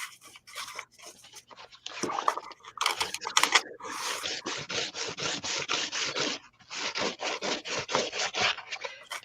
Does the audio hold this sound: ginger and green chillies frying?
no